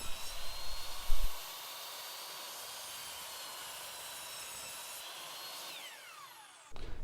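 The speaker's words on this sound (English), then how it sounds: "The way to accurately cut to a line is by starting off wide and progressively making cuts to get closer and closer to your line." A power saw cuts wainscoting trim: a short rough bite into the wood, then a steady high whine while the blade spins on, winding down before another brief cut at the end.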